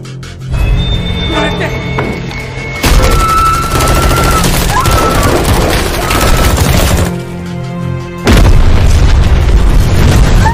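Explosion and gunfire in an action film scene about a Mexican mafia fight in a tunnel: loud continuous booming blasts and rapid bursts of shots, dense and close, with brief voices under the din.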